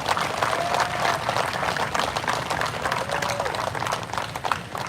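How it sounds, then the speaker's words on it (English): A crowd gives a sustained round of applause at a live gathering, dense clapping with a few scattered voices and whistles, steady from start to finish. "Can we give her a round of applause?"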